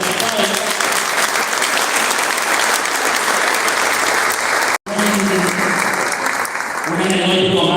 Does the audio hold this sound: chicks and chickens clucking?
no